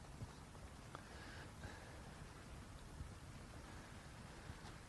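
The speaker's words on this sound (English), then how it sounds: "The rain has just actually started to hammer down even a little bit harder" Heavy rain pours down on an open golf course as a dense, even hiss of falling water, steady and fairly faint, with no voices.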